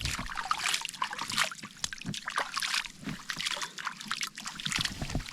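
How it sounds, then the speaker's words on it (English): Clean water from a village spring that never runs dry, trickling and splashing close by in a steady, lively patter with no one speaking. "So this is the water spring here."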